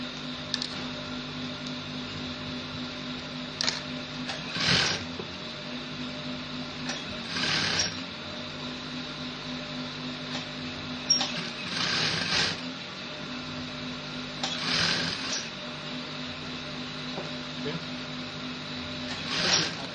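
Sewing machine running in repeated bursts as it top stitches fabric for a child's senator top with bishop collar, a steady close mechanical hum with a clicking rhythm between brief pauses and rustling handling sounds.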